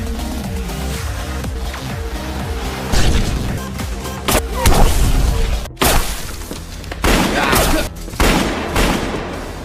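A film gunfight at a resort, with rapid bursts of gunfire, loud cracking shots and crashes coming in clusters over tense background music, and a faint voice underneath.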